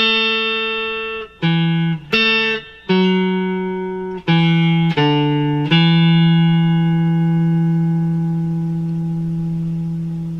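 Electric guitar plays the main melody of a song as a few clean, separate plucked notes with echo, ending on one long sustained tone that rings and slowly fades.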